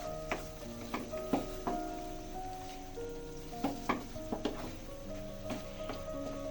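Meat sizzling and being stirred in a pan for a homemade pizza topping, with repeated sharp scraping strokes of a utensil against the pan over a steady frying hiss, close and moderately loud.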